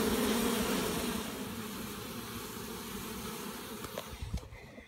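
Bees trapped in a vent buzz as a steady, droning hum, strongest at first and then a little softer, with a few faint knocks near the end.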